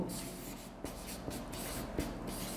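Marker or chalk scraping across a board in short strokes, with a few sharp taps where the tip meets the surface, close and moderately quiet, no talking.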